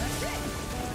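Sword Rain Alpha attack effect from the video game Tales of Arise: a dense, loud, hissing burst like a downpour of blades striking, sustained for about a second with faint ringing tones above it.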